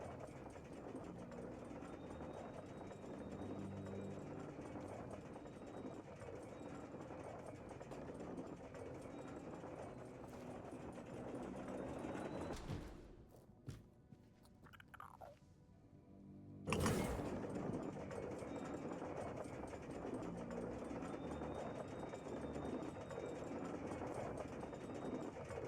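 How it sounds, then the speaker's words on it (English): A lift descends in the fantasy game Tainted Grail: The Fall of Avalon, giving a steady mechanical hum and rattle that drops into a brief quieter gap midway, then resumes with a sharp clank and carries on evenly. "Guess I can take the elevator back down."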